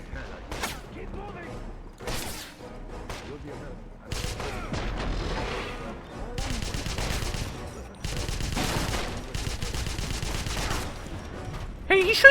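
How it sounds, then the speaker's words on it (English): Rapid enemy gunfire in Wolfenstein (2009) rattles in bursts, some muffled as if through a wall, with several loud sustained volleys of automatic fire separated by short gaps and a player's voice talking in between. "he's shooting me through the fucking wall, is he not?"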